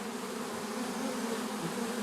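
A swarm of honey bees being captured into a box, giving a steady, dense buzzing drone that holds evenly throughout at close range, with no voices.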